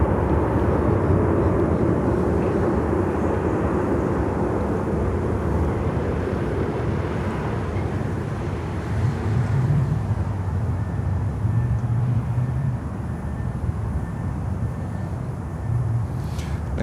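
A heavy jet comes in to land on runway 9 at Miami airport, a broad, steady low roar of engines rumbling continuously at a distance with no talk over it.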